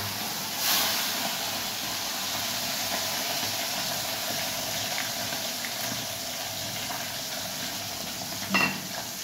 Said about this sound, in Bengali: হ্যাঁ আগে আমাদের ওই চুনো মাছটা ভেজে নিচ্ছে।